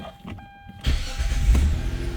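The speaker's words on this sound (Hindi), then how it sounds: "यहाँ पर गाड़ी को मैं फिर स्टार्ट करूँगा।" A Hyundai Santa Fe with an automatic shutdown fault is started: a short quiet pause, then the starter catches and the engine fires into a loud, rough idle that holds steady close by.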